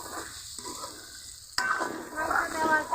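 Chicken pieces drop into a pan of spice paste fried with chili powder, setting off a sudden louder sizzle after a quieter stretch of low frying, then a steady crackle with a few stirring scrapes.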